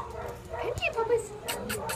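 Puppies at an animal shelter whimpering and yipping in short high cries, close by, mixed with a person talking to them and light background clatter.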